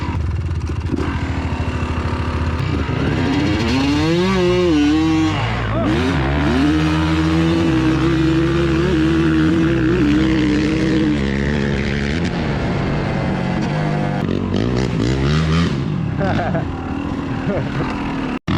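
Two-stroke and four-stroke dirt bikes, a 250 and a 450, launch in a drag race from a slippery gate with loud, sustained engine roar and rising revs, while people talk over the noise.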